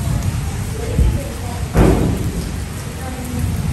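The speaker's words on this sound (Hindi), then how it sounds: "ये देखिए सामने अभी फिर दोबारा से बारिश शुरू हो गई है।" Heavy rain pours steadily and loudly in a village in Punjab, Pakistan, with a dull thump partway through and faint voices beneath the downpour.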